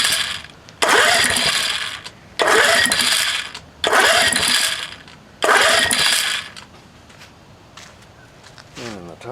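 A 1971 Johnson 4hp outboard is pull-cranked four times for a compression test, each loud, rattling burst of turning over lasting about a second with short pauses between, then quieter handling noise close by.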